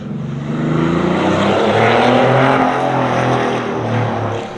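Air-cooled engine of a Porsche 964 running in a parking lot, a loud, close, steady mechanical drone with a faint rise in pitch and a brief sharp sound at the end, no talking.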